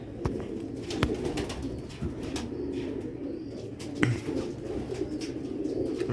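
A mouse-colored Sialkoti pigeon coos in low, soft, repeated calls close by, with a faint outdoor background and a couple of brief knocks.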